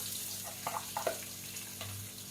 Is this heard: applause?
no